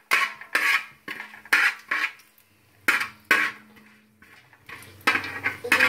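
Tomato rice is stirred in a pot, a spoon knocking and scraping against the sides in a series of sharp clattering strokes separated by brief quiet gaps, close and fairly loud.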